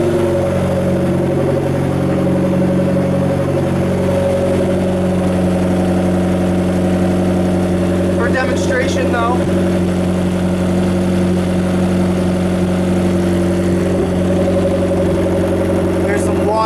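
A Nissan Sentra with a turbocharged SR20DE engine idles loudly and steadily, with a constant low drone and rattling vibration, while someone talks over it near the motor.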